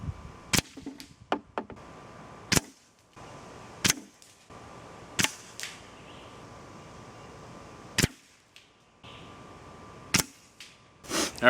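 A .22 Benjamin Discovery air rifle fires pellets at paintball targets outdoors, sharp isolated cracks and thwacks spaced several seconds apart, with a few quicker clustered impacts over a quiet background.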